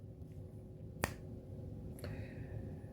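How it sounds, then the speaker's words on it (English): A single sharp finger snap cracks out clearly in a quiet room, followed about a second later by a softer second click against a low background hum. "I'll snap my fingers."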